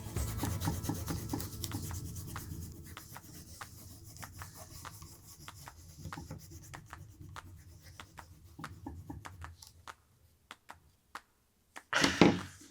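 Paper is rubbed over a damp painted fish for a kids' ocean-scene print, giving a continuous close scratchy rubbing that fades into near silence before a brief handling noise at the end.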